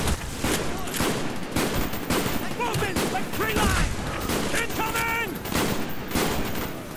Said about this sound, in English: He's aggressive with that sniper rifle